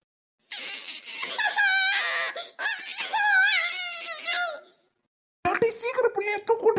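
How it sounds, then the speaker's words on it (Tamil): A young child wails and sobs in long rising and falling bursts, loud and close, with a brief pause before the crying resumes in shorter, choppier cries. "குழந்தை அழுகுற சத்தம் கேக்குது"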